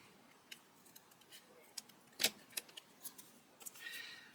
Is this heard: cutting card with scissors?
yes